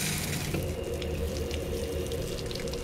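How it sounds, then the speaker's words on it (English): A small outdoor garden shower runs steadily beside a pool, its broadband water hiss continuous and fairly close for the whole stretch, with no voices over it. "Got my little shower here."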